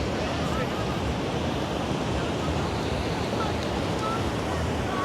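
Ocean surf rolls in steadily at Seminyak beach, Bali, a continuous broad wash of breaking waves with wind buffeting the microphone, filling the scene without pause.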